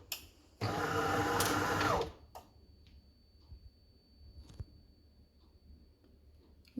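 A DeLonghi coffee machine switching on and starting up, giving a loud broadband whir for about a second and a half, then settling into a faint hum with a few light clicks in a quiet room.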